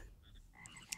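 Frogs croaking in the artillery video game ShellShock, a brief quiet burst of croaks with a sharp chirp near the end.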